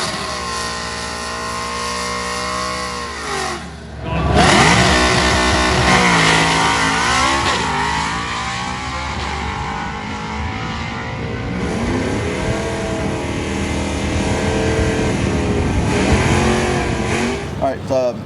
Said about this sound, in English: this thing just sounds so good when you put it on the chip and start going through the gears.